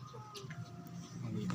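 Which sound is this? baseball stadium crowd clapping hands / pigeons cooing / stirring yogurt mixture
pigeons cooing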